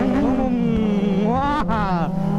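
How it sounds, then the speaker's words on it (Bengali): A Kawasaki Z900 motorcycle engine revs steadily up close, pitch climbing and dropping with a sharp blip near the end, with voices talking over the continuous drone. "চলো Z900 আওয়াজ শুনো"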